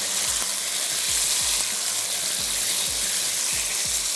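Chicken frying with garlic in a pan for tandoori chicken, with a steady loud sizzle throughout and faint low rhythmic stirring or scraping beneath it.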